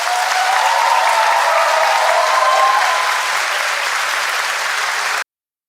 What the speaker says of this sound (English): The applause was not polite.